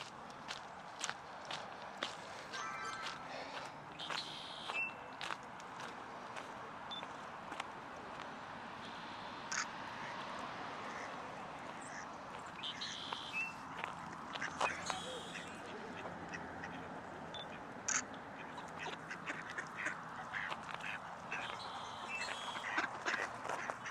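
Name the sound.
ducks quacking on a duck pond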